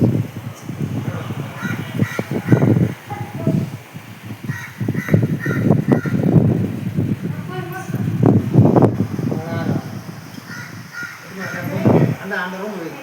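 Crows caw repeatedly in short harsh bursts as summer rain begins, mixed with a voice talking and steady background noise.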